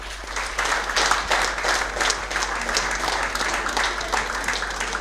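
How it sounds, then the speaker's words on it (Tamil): An audience at a student forum debate bursts into sustained, even applause that fills the room steadily for the whole stretch, with no voices over it. "ஸோ அவங்களுக்காக ஒரு பெரிய கைத்தட்டல்."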